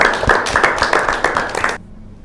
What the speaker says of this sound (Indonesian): Sebelumnya tepuk tangan dulu bagi kalian semuanya.